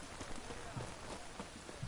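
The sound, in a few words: rain in a video game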